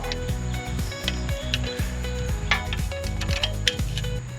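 Ratchet clicking in quick rhythmic bursts as a bracket is tightened on a semi trailer harness, close and crisp with short pauses between strokes, no talk.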